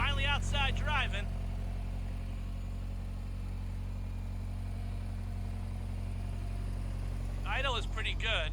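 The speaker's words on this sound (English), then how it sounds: "Idle is pretty good." A Ferrari 328 GTS engine idles outdoors in a steady, low, even hum. A person talks briefly at the start and again at the end.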